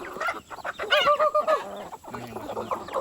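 Chickens on a hillside farm, hens and roosters together, cluck and call close by in short bursts, a brief louder squawk rising above a steady outdoor background.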